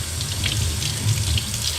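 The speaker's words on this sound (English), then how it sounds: "and then I just rinse it out" Tap water runs steadily over an artist's paint brush as it is rinsed clean, a close, continuous gushing splash with no talking.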